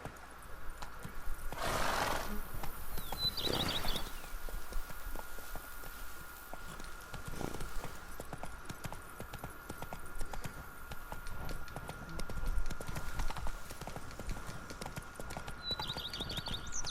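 Horse hooves clip-clopping at a steady gait in The Witcher 3 game, with a couple of neighs and snorts over continuous ambient game sound, moderately quiet overall.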